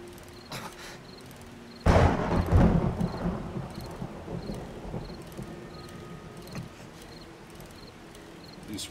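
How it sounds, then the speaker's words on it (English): A thunderclap breaks loud and close in a 7 Days to Die thunderstorm, then rumbles and rolls away over steady rain, with faint repeating insect chirps beneath. "Oh, we got stormy weather going on."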